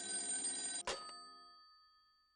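A telephone bell rings loudly in a single burst, cut off by a thunk as the receiver is picked up, then leaves a fading metallic ring that decays into silence.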